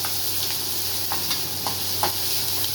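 Small onions tempered in hot oil for sambar sizzle steadily and close, with a few light stirring scrapes of a spoon in the pan and no one talking.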